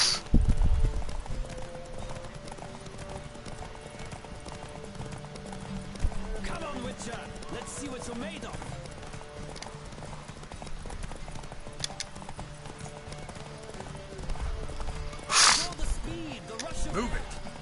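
A horse gallops in a race in The Witcher 3, its hooves drumming in a fast, continuous rhythm throughout. Voices speak over the hoofbeats, with a louder burst near the start and another near the end.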